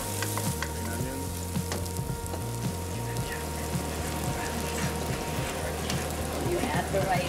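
Garlic and onions sizzle and fry in a pan for seafood fried rice, with a steady crackling hiss and occasional stirring scrapes and clinks close by, while a low hum runs underneath.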